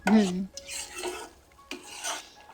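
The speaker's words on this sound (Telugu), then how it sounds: "అంటే మనం వేసిన నెయ్యి అంతా సపరేట్ అయ్యేంత వరకు కలుపుకుంటూ ఉండాలి ఇలా" A spoon scrapes and rasps through thick Mysore pak mixture with ghee in a pan, in about three short, close strokes separated by brief pauses.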